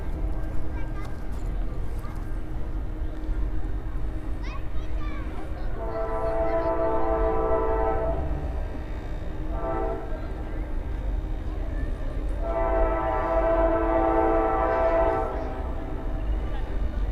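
A northbound Canadian Pacific freight train with auto racks rolls past under a steady rumble, its horn sounding in two long blasts with a short one between, while a voice talks over it.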